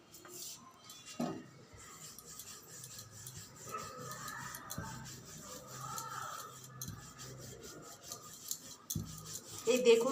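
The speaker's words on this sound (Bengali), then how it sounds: "আর একটা বেলে নিই।" Egg roll dough being rolled out with a rolling pin in a home kitchen gives soft, repeated rubbing and scraping strokes with light clinks of utensils, fairly quiet and close, with no talking.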